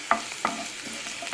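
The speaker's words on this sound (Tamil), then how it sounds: "ஸோ பூண்டு வந்து லைட்டாக வதக்கிக்குங்க." Garlic sizzles softly in hot oil in a kadai, with a couple of sharp utensil taps and scraping stirs over a faint, steady frying hiss.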